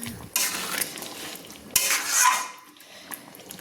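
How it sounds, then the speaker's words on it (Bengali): A spoon stirs chicken curry with coriander leaf paste in a pot, giving two bursts of wet scraping and clattering against metal over a faint sizzle, with quieter pauses between. "ধনে পাতা পেস্টটা দিয়ে কিন্তু আমি একটু নেড়ে নিচ্ছি।"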